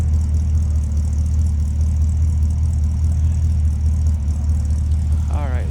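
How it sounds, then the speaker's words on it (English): A 1955 Ford Fairlane Crown Victoria V8 idles with a steady, deep throaty rumble heard from behind the car, loud and even throughout, with a brief voice rising at the very end. "A little throaty rumble coming out of that V8."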